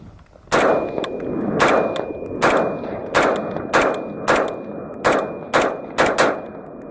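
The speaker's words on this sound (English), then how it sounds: "So now we got the Scar. We're gonna shoot unsuppressed, and then we'll shoot suppressed." An FN SCAR rifle fires unsuppressed outdoors, about eleven loud, sharp reports spaced roughly half a second to a second apart, each with a ringing tail, and no talk between shots.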